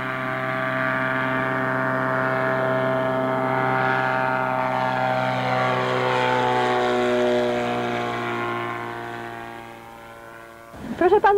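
A propeller aircraft lands, its engine drone holding as a loud, steady harmonic hum with a gradual pitch shift as it nears, then fading before a brief burst of clatter at the very end.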